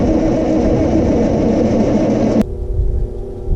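A frozen diesel tractor engine roars loudly and steadily, then cuts off abruptly partway through, leaving a quieter low rumble and hum behind.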